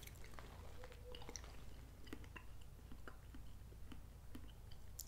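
Close, soft chewing of canned Del Monte sliced peaches, wet squishy bites repeating steadily over a low background hum, with no talking.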